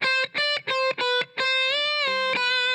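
Distorted electric guitar plays repeated short notes, then a sustained note bends smoothly up a whole step and holds, loud and close.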